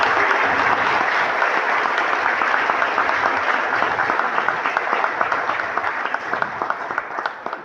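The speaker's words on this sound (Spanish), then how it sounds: "Un aplauso." An audience at a formal municipal session in Zea applauds, a dense sustained round of clapping from a full room that holds steady for several seconds before gradually thinning.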